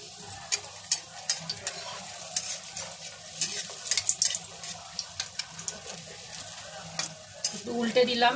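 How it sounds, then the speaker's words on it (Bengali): Batter-coated aloo chop, a potato fritter, goes into hot oil and sizzles continuously, with sharp clinks and scrapes of a utensil stirring and turning it close by. "এবার আমি গরম তেলের মধ্যে দিয়ে দেব।"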